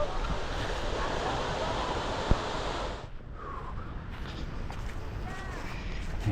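Surf washes onto the shore at Amer Beach cove in the South Hams, UK, a broad continuous rush of waves mixed with wind buffeting the microphone, easing slightly midway before building again.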